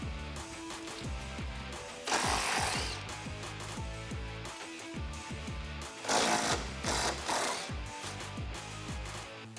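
Power tool undoing 18 mm upper shock mount bolts on a 2015-2018 Ford Mustang GT, with two loud sustained bursts of whirring and hammering near 2 and 6 seconds, among steady rapid mechanical chatter throughout.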